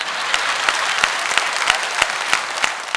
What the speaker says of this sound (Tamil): தங்கள் கைத்தட்டல்களால் மிக அழகாக ரசித்துக் கொண்டிருக்கின்ற உங்கள் அத்தனை பேருக்கும்